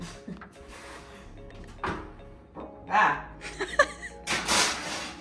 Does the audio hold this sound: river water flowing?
no